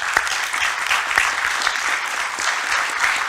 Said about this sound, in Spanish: Así que, Juan Manuel, si te puedes parar para que te aplaudamos.